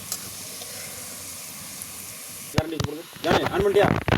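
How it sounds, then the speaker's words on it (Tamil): Black pepper frying in sesame oil, a soft sizzling hiss at first, then louder clattering and stirring noises with a voice talking over the last part. "இந்த நல்ல மிளகு இட்டு நல்ல நல்லெண்ணெய் ஊற்றி வறுத்துக்கணும்"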